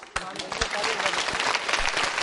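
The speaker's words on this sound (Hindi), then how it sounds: "जोरदार तालियां बजनी चाहिए, जोरदार।" Quiz show audience of school participants bursting into clapping, sharp individual claps at first thickening into sustained applause with voices mixed in.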